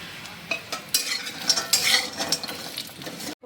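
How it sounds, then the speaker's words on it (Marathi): Small pieces of coconut roasting in a little oil in a pan give a crackling sizzle, with bright spatters and the clink of a spoon stirring and scraping, close up and without talk. "मी थोडंसं तेल टाकले त्याच्यामध्ये खोबरं भाजून घेते"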